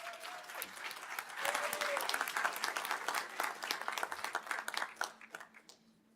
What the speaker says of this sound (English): Audience, please give her one more round of applause.